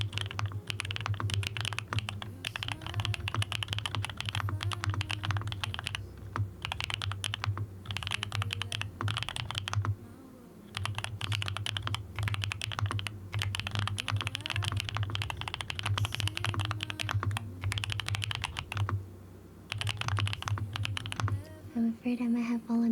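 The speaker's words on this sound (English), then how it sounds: "Same switches, but when I use my other keys, it sounds a lot more thockier than creamy." Fast, continuous typing on a mechanical keyboard with a deep, thocky key sound, close and crisp, running in dense bursts with a couple of short pauses.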